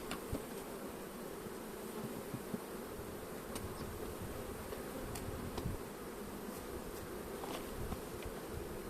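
Honeybees swarm densely around an open beehive as they are shaken off a hive lid, a steady close buzzing drone with scattered louder passes, and no voices.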